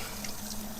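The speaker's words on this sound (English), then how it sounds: "So now I will use my table and the sink. I will wash my dirty hands" Running water at an outdoor garden sink while hands are washed, a steady close splashing and trickling from the tap with no speech over it.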